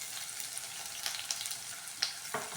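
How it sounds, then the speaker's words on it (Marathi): Sliced onion and crushed garlic fry in a pan, a steady broadband sizzle with a few sharper crackles and pops near the end. "कांदा लसूण व्यवस्थित भाजून घेऊ"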